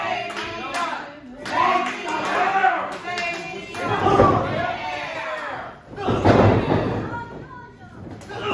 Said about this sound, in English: Slamming him head first now.